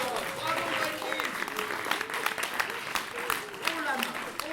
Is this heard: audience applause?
yes